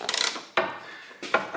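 A long hand tool fastens a rear suspension bolt on a Toyota Camry, giving a quick burst of ratcheting clicks followed by two sharp metallic clacks, close and loud.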